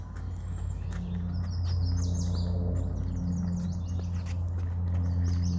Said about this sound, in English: Wow, look at this beautiful bird. It has just landed.